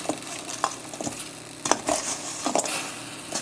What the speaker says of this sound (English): You've got to toss it right away to really coat the kurma with it.